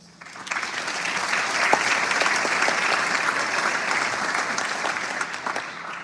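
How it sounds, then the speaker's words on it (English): Students applauding at a scholarship ceremony in Annandale, Virginia, a full, sustained round of clapping that swells quickly and holds steady for several seconds with a few sharper claps standing out. "give yourselves a round of applause"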